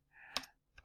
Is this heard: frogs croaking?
no